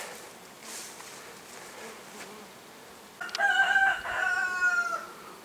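A honeybee swarm at an apiary gives a faint, steady buzzing hum in the background, and a rooster crows loudly partway through, overlapping the droning bees.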